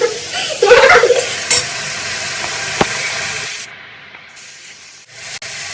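Onions frying and sizzling in a pan in a home kitchen as they are stirred: a steady, close hiss with scraping and rubbing, loud at first and then settling into a quieter sizzle.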